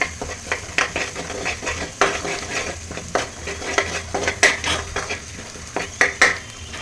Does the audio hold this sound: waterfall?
no